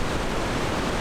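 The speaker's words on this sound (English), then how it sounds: "Sahaley is a 100-foot plunge waterfall that is extremely powerful" Sahalie Falls, a powerful 100-foot plunge waterfall on the McKenzie River, as a dense, steady roar of rushing water heard up close and loud, with no voices.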